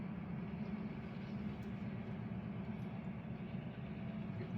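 Freight train cars rolling past beneath a viaduct beside a river, a low, steady rumble echoing off the surrounding walls, distant and faint with no pauses.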